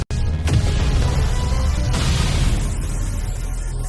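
A deep boom bursts out right at the start of an animated skyscraper explosion, then a loud rumbling roar sustains and slowly settles over the following seconds.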